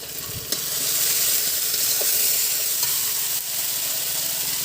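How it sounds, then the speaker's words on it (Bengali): Spice paste of ground spices, turmeric and salt sautés in a pan for a rustic prawn and taro curry, a close, steady sizzling hiss with occasional scraping stirs. "এবার মশলাটা ভালো করে কষে নেব"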